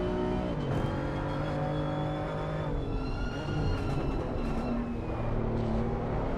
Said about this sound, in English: Hear that traction control kicking in massively for that BMW.